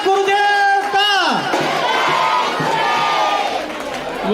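A crowd at a Digambar Jain temple gathering raises a loud chanted cheer for the guru, voices swelling together then breaking into sustained cheering and clapping, near and full.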